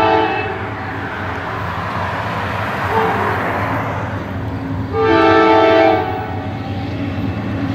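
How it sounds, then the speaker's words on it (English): A westbound CSX intermodal freight train led by wide-cab GE locomotives rumbles past on the former B&O mainline in Fostoria, Ohio, with loud continuous rail and engine roar and a sustained horn blast partway through. "this westbound intermodal train is strictly a CSX classic"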